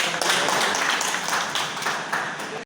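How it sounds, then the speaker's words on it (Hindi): A crowd at a tribal federation gathering in a panchayat hall breaks into dense, steady applause welcoming the officials, continuous clapping filling the whole stretch. "जोरदार तालियों के साथ उनका स्वागत"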